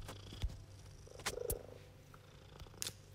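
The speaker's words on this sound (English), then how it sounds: "It's my cat." A house cat purring softly and steadily, faint and close, with a few brief clicks and rustles over the low continuous rumble.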